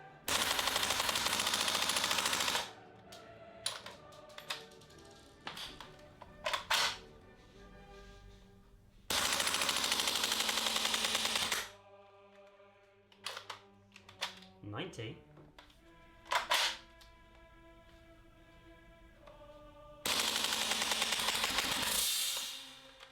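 A VFC HK MP5A5 gas blowback airsoft gun fires BBs in three long full-auto bursts, loud and close, each a rapid sharp clatter, with quieter clicks and handling noises between.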